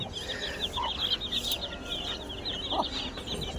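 Chicks and a Bhimavaram Metta-breed rooster give rapid, repeated high clucks and chirps, close by and steady over a low farmyard background with no talking.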